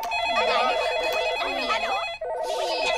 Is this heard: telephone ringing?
yes